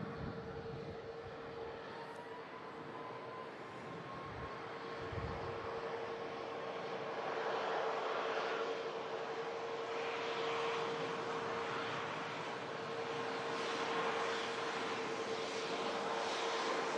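An Icelandair Boeing 737 MAX 8 arriving at Manchester Airport in stormy weather, a distant, sustained engine roar with a steady whine that grows a little louder midway and stays broad and rushing.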